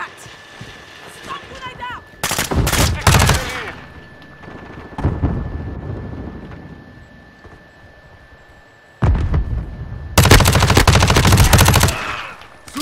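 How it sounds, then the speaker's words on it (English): MP5 submachine gun in Modern Warfare 2 firing several close, loud rapid-fire bursts of differing lengths, separated by quieter gaps, with a person talking at the start. "we're rocking the MP5 today"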